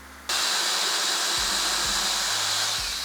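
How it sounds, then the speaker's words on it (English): A drill-driven paint mixer churns grain mash for a Kölsch beer during dough-in. The motor whirs up abruptly and then runs as a loud, steady, hissing drone close by, with no talk. "That was ridiculously easy with the paint mixer."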